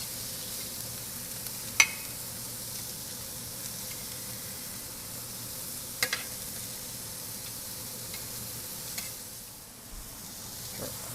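Burgers fry on a stainless steel griddle over an induction range, giving a quiet steady sizzle with a few sharp clicks and taps from handling.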